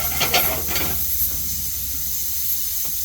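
Whole spices such as star anise, cardamom, cloves and cinnamon hit hot oil with popped mustard seeds in a pan, bursting into a loud crackling hiss at first, then settling into a quieter steady sizzle.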